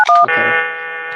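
Telephone dialing tones on a phone line: a couple of quick, sharp tone bursts, then a steady, clear dial tone holding on, loud and close with no speech.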